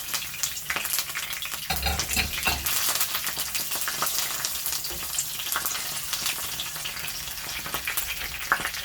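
Cinnamon bark and curry leaves fry in hot oil in a pan for a chickpea curry, a loud, close, continuous sizzle with occasional scraping stirs.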